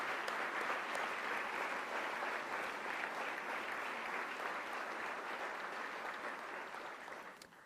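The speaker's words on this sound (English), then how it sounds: "give them another round of applause for all you've done" Sustained audience applause at a Medal of Honor ceremony, a dense, steady wash of clapping from a large crowd that holds evenly for several seconds before tapering off at the end.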